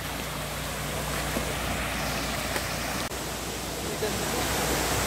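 Roaring waterfall pouring over slippery rocks at an old stone-quarry fishing spot, a steady broadband rush that fills the whole clip without pause.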